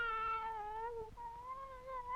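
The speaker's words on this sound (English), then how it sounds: "cats relentlessly meowing is already pretty annoying" Meows from cartoon cats in the 1933 Scrappy short "Sassy Cats", two long drawn-out wavering cries in sequence, loud and close, with no speech.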